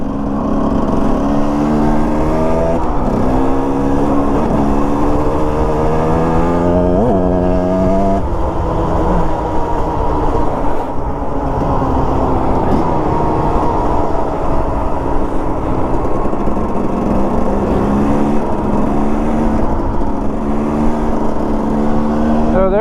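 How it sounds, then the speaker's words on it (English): A KTM 350 two-stroke dirt bike engine drones loudly and continuously while riding, its pitch rising and falling with the throttle and no pauses throughout. "There's my man George, rocking his KTM 2-stroke 350."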